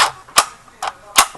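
A jammed Echo1 airsoft gun with a nearly dead battery gives sharp, isolated clicks as the struggling motor and gears catch, four distinct snaps spaced unevenly over a second and a half, close and alone.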